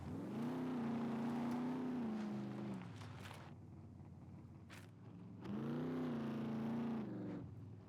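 A car in the SCUM survival game swings through a hairpin turn with the handbrake pulled, its engine droning loudly, easing off mid-turn, then revving back up, with a brief skid or clatter between.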